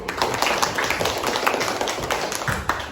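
A classroom group claps for the first presenting group in a teacher-training session, brisk uneven hand claps from a modest number of people, fairly close and continuous for a few seconds.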